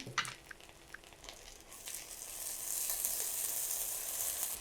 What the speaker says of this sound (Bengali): একটু লাল লাল করে ভাজতে হবে পেঁয়াজটাকে